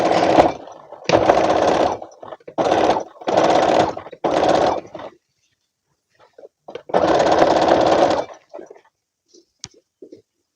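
Sewing machine stitching fabric for a coat or jacket, running in several short bursts of rapid mechanical chatter separated by pauses, close and clear, with a longer run near the end.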